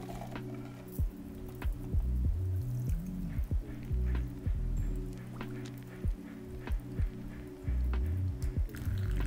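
A tiki-style margarita cocktail is double strained through two strainers, giving a soft, continuous trickle with scattered drips and small clinks, heard close up with no one talking.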